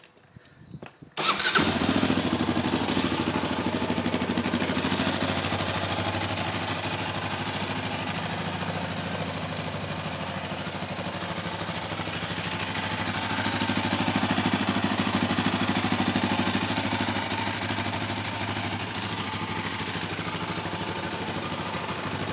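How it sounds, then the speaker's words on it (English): A loud off-road vehicle engine cranks and catches, then settles into a steady, rough idle that rumbles on without a break. "here's a startup on it."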